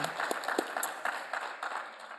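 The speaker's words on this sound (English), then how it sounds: "So can we just clap for Melanie's sister, Courtney?" A small audience claps for a few seconds, scattered individual claps forming a light, fairly quiet patter rather than a dense roar.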